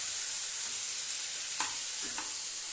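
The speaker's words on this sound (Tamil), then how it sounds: "அதனால் போட்டுட்டு உப்பு போட்டுட்டு நல்லா இப்படி கிளறி விட்டுருங்க ஃப்ரெண்ட்ஸ்" Salted plantain and potato pieces sizzle in a pan while being stirred, a steady soft frying hiss with two brief scraping strokes of the spoon near the end.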